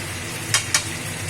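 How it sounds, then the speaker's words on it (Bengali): Kashmiri chilli powder being stirred into mutton curry as it fries, a steady soft sizzle broken by two quick scraping strokes of a spoon against the pan. "এবারে আমি মশলা দেওয়ার পরে নাড়াচাড়া করবো"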